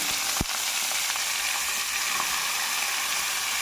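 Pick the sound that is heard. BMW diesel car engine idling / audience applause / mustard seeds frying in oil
mustard seeds frying in oil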